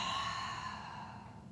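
A single audible exhale during a deep forward stretch for splits, a soft sighing breath close by that fades out over about a second and a half.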